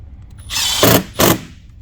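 A power tool drives fender flare screws on a 2018+ Polaris Ranger XP while Rokblokz flares are installed. Two short, close whirring bursts sound, the second briefer, then it stops.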